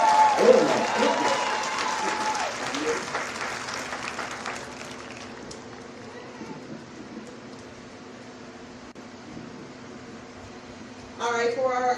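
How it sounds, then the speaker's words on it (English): At a middle school 8th grade recognition ceremony, a crowd claps and cheers loudly, then the applause gradually fades into a quiet room murmur before a brief burst of noise returns. "Give him a nice round of applause."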